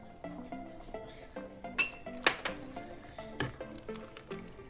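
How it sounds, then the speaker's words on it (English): A metal spoon clinks repeatedly against a pot while soy sauce is stirred into a meatless Asian menudo, giving a steady run of close, bright knocks and rings. "go ahead and stir that soy sauce right in"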